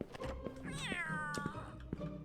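A cat in a video game meows once, a long drawn-out rising-and-falling cry, clear and close, with a few soft thuds and clicks around it.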